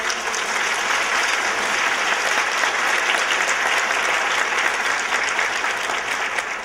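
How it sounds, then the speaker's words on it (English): A large audience at an awards luncheon bursts into sustained, loud applause that stays dense and even from start to finish, with no voices breaking through. "Let's have a round of applause, please."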